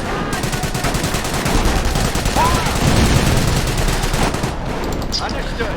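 Dense battle gunfire from the World War II strategy game Company of Heroes, with bursts of rifle and machine-gun fire overlapping continuously and loudly throughout, and a faint voice underneath.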